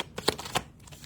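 Tarot cards shuffle in quick, close riffles, with two sharp bursts of flicking and slapping, then a softer rustle as the deck settles.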